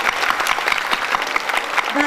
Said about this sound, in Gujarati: એટલે જોરદાર તાળી